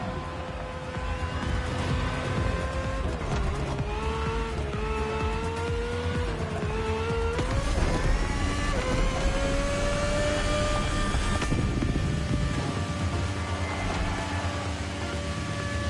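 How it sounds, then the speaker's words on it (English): A plane races an AGP race car in The Crew Motorfest. A steady, loud engine drone with sustained whining tones rises and dips through tight turns over a constant rumble. "the plane will have to make very tight turns if it wants to keep up with the AGP"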